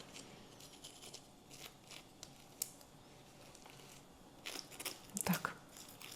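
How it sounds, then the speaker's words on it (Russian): Crispy crust of a skillet-baked cheese khachapuri, brushed with butter while hot, crunching in a few soft, scattered crackles that grow into a louder cluster near the end, close by and without talk. "Слышите, какая хрустящая корочка?"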